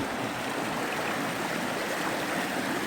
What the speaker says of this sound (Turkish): Bayağı dere, burada dere acayip yükseliyor